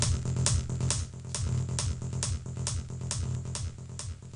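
A psytrance kick and rolling bass line without bus processing, with a dense, driving beat of regular kick pulses under a continuous buzzing bass and bright synth layers, loud and electronic.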